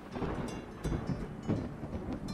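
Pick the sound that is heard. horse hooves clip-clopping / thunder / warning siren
thunder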